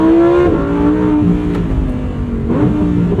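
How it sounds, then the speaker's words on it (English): A 2023 Lamborghini Huracan Tecnica with a 7-speed dual clutch revs loudly up close, its rising engine note dropping abruptly at two quick gearshifts before climbing again. "The shifts from the 7-speed dual clutch are very smooth, especially in sport mode."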